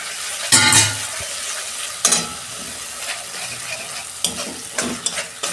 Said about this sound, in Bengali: গ্যাসের ফ্লেমটা আস্তে করে আমি 2 মিনিট কষাবো।